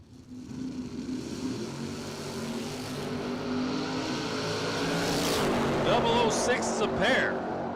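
A drag race car, the Little Black Vega, sits at the starting line as its engine revs with a couple of throttle blips, growing louder toward the end while a commentator talks over it.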